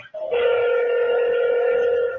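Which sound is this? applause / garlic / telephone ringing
telephone ringing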